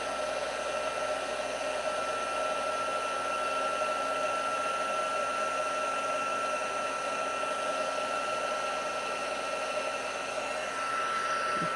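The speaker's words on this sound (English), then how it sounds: "I didn't preheat my heat gun." A heat gun blows hot air in a constant, loud, steady whoosh with a faint whine, running without pause throughout.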